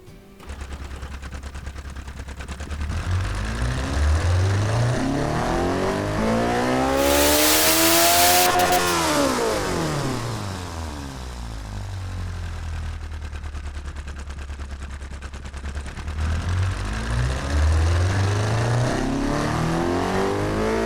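A 1000cc, 2000-horsepower car engine in a video game revs high, screaming through sweeping pitch rises and falls, loud and continuous, with a synthetic game-like quality and no talking.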